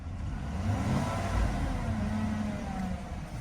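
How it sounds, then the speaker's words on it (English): A 2014 Chevy 1500 with a 5.3 engine revving under light throttle, a low steady engine rumble that rises and settles, moderately close with no talking. "give it a little bit of throttle there"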